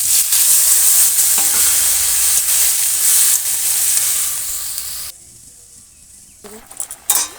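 Puti fish sizzle and fry loudly in hot oil in a wok, with stirring and scraping throughout; the frying grows quieter toward the end, giving way to a few clinks and faint pan sounds.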